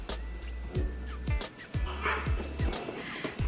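Small dogs bark and yip repeatedly nearby in quick, irregular bursts over a low steady hum, with no talk.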